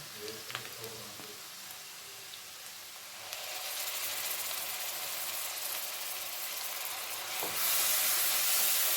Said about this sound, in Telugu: ఇది ఫ్రై అయింది కాబట్టి దీంట్లో కొబ్బరి, అల్లం వెల్లుల్లి పేస్ట్ వేసుకున్నాం.